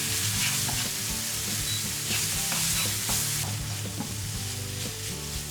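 Chopped onion fries and is stirred in a pan for vegan stuffed sweet potatoes, giving a constant loud sizzle with scattered scraping stir sounds, close up and uninterrupted by voices.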